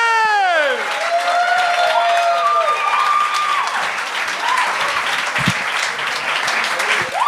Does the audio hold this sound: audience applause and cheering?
yes